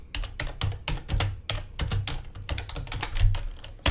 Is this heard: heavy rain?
no